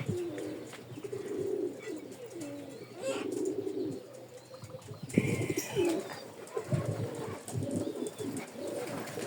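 Pigeons in a loft coo in low repeated bursts close by, with soft chirps scattered between them and a brief flutter near the middle.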